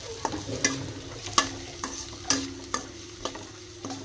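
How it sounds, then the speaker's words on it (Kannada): Pre-boiled noodles fry on low flame in a pan on a gas stove, with a soft sizzle and rhythmic clanks and scrapes of a spatula stirring every half second or so, close up. "ಗ್ಯಾಸ್ ಸ್ಲೋ ಇಟ್ಕೊಳ್ಳೋಣ್ರಿ ಇಟ್ಕೊಂಡು ಫ್ರೈ ಮಾಡೋಣ"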